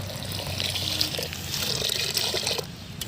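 Water sloshing and trickling steadily as pearl millet is rinsed in a pot and the rinse water is poured off, a continuous close wet pour with no talk.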